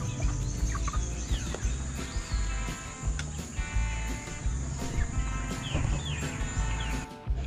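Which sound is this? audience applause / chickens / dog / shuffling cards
chickens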